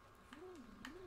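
A ladybug creature in the survival video game Grounded gives a soft, wavering cooing call, two gently rising and falling hoots across about a second, fairly faint over a low ambient backdrop.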